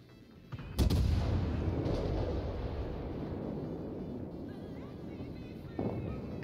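Warship guns fire in World of Warships, a sharp heavy blast followed by a long rumbling roar that keeps going, with a second thump near the end.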